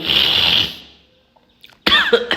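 A person coughing close up, one harsh cough burst followed after a brief silence by a second cluster of throaty coughs.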